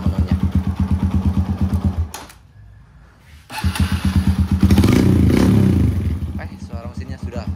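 Kawasaki KLX motorcycle engine idling smoothly after repair, a close, rhythmic low putter that briefly drops away, then returns with a rev and settles back into steady idle, with a voice talking over it.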